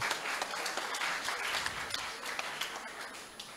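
Audience applause at a high school graduation farewell ceremony, heard as a soft, fairly distant patter of many hands with scattered sharper claps, continuing evenly throughout.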